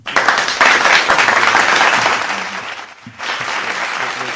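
Audience clapping during a casual conversation about a rapper, steady dense applause that dips briefly near the end and then resumes, with a few faint voices underneath.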